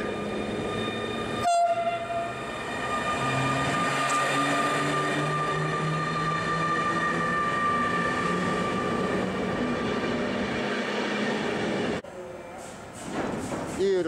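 A Polish locomotive-hauled train runs steadily past, a loud, continuous rolling rumble with a sharp horn-like blast near the start and a shift in tone at the end.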